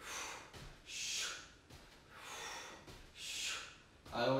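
Heavy, rhythmic breathing during a HIIT core workout, with long loud exhales and inhales in slow repeating cycles, close to the microphone, ending with a short burst of voice.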